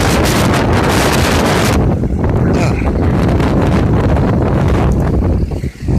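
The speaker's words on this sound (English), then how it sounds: "Oh man, it's really windy out here." Strong wind during a snowstorm roars and buffets the microphone in a loud, continuous rush, easing only slightly partway through.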